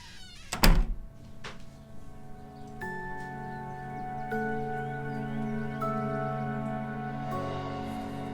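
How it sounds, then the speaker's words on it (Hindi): An interior door in a home swings shut with a single solid thud near the start, followed by soft sustained background music with no talking. "क्या मैं दरवाजा बंद कर दूं?"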